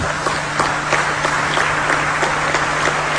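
A studio or hall audience claps steadily and densely for about three seconds, loud and close, with a faint low hum running underneath.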